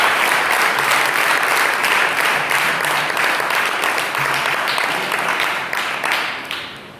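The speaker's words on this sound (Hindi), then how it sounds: "उन्हें भी हम तालियों के द्वारा स्वागत करेंगे।" An audience claps to welcome guests at the inauguration of a VBS training program, a lively, rhythmic wash of applause that holds strong before tapering off toward the end.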